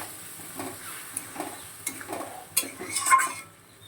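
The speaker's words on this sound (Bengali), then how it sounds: "কষিয়ে নেবো বেশ মশলাটা সুন্দর করে" Ginger, mustard and cumin paste being stir-fried in a pan, with a soft sizzle under repeated scraping strokes of a spatula against the metal, growing busier and louder toward the end.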